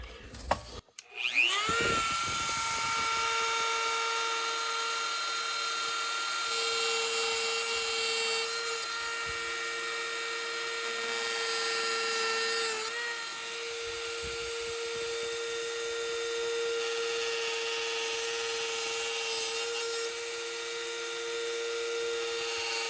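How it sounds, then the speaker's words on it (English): A Dremel rotary tool with a cutoff wheel slices gaps in model railroad rail, giving a loud, steady high-pitched grinding whine that starts after a brief knock and runs unbroken, with slight shifts in pitch as the wheel bites. "I've got my Dremel with a cutoff wheel, and I'm going to go ahead and make that cut."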